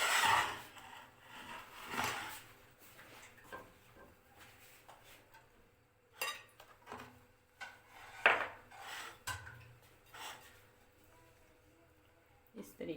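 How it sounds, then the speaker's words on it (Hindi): A knife cuts potatoes into thick chunks on a board, with scattered scraping cuts and soft knocks at uneven intervals and faint background talk. "तो आलूओं की हम कटिंग कर लें।"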